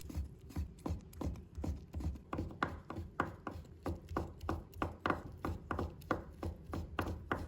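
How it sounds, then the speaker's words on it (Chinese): Knife chopping soaked shiitake mushrooms into strips on a cutting board, a fast, even run of sharp thuds close up, about three per second, with no voices. "把它切成丝"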